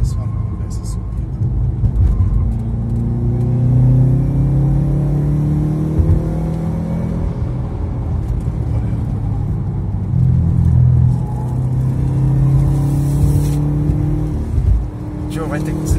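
A 1.0 litre car engine labours uphill with the air conditioning off, a loud low drone that swells and eases with gear and throttle, while people talk inside the car over it.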